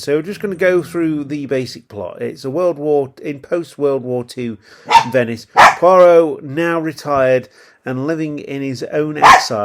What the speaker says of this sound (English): And that is the dog again